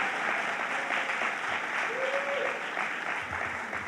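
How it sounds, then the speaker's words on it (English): A political rally crowd in Farmingdale applauds a longtime champion of women's reproductive rights, a steady, dense clapping that fills the whole stretch without letting up. "let's have a big round of applause for our champion who's been battling for many years"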